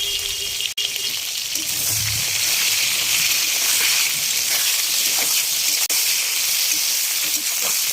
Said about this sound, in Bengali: বেগুনগুলো আলাদা আলাদা ভাজছি